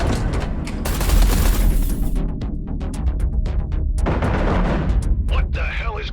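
Artillery fire pounds a carrier in the space-combat game Everspace 2, a dense, continuous barrage of booming blasts and rapid gunfire that stays loud throughout, with a brief lull before the bursts resume, under occasional voices.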